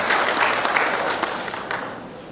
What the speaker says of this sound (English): Round of applause for Mr. Rowan Bain, please.